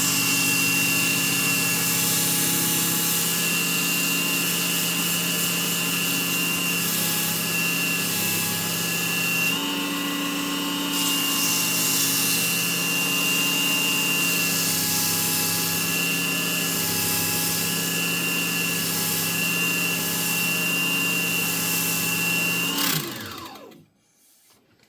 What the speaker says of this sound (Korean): 마지막에는 사포로 정리.